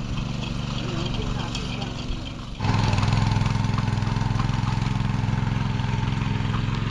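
A tractor engine ploughing a field hums and knocks steadily nearby, then swells to a louder, harder throb partway through, with voices heard over it.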